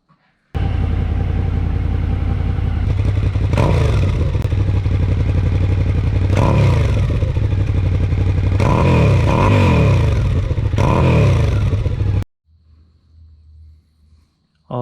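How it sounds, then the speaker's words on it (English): A Triumph Thruxton 1200R engine starts up and warms up, idling steadily and loud for about twelve seconds with a few throttle blips, then cuts off abruptly. "So let's warm her up to see if we needed to add more oil."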